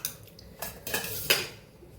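A metal kadai on a gas stove and a spoon knock and scrape in a few sharp, close clinks and clatters, with brief louder strikes spread over a couple of seconds.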